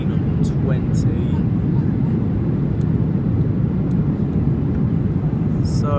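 Cabin noise inside a Ryanair Boeing 737-800 on landing approach with gear down and flaps extending: a loud, steady low engine and airflow roar fills the cabin throughout, with faint higher clicks and a voice talking over it.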